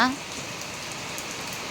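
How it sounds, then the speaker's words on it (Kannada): Steady rain pours down in a continuous, even hiss, close and moderately loud, with no other sounds breaking through. "ಸಂಜೆ ಮಳೆ ಸ್ಟಾರ್ಟ್ ಆಗೈತೆ"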